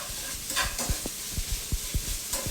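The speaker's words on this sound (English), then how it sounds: "Toss that around, and my garlic's browning up." Garlic browning in olive oil is tossed around a hot pan, a continuous close sizzle broken by several soft thumps and scrapes as it is stirred, with no voices.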